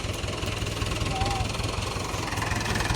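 A tractor engine runs in a sugarcane field with a steady, close drone and a low, rhythmic throbbing that holds evenly throughout.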